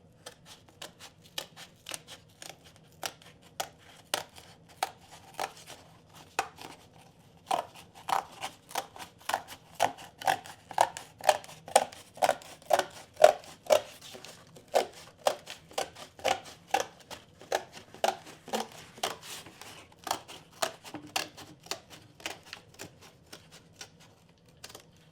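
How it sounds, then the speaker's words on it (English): Scissors cutting out a paper mold for making snowshoes: a long series of crisp, close snips, sparse at first, then coming in steady quick rhythm, fairly quiet with no talk. "Now with my trusty scissors,"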